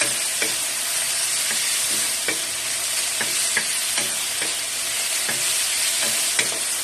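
Ingredients with pepper sizzling in a pan, a dense continuous frying hiss broken by regular light scrapes and taps of a spoon stirring.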